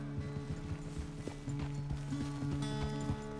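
A horse walks in the Red Dead Redemption 2 video game, its hooves clip-clopping in a steady rhythm, faint and somewhat distant, under a low, continuous ambient hum.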